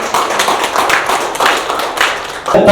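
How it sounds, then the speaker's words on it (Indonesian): Audience clapping at a press conference for the Indonesia Pro-Am golf tournament, a lively burst of many hands close by, steady and loud for under three seconds with no talking over it. "Boleh tepuk tangan?"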